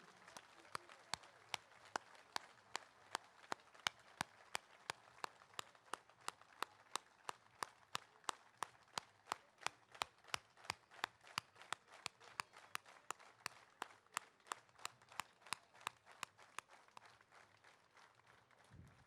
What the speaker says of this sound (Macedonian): Ве молам да обоздравите со еден громогласен аплауз.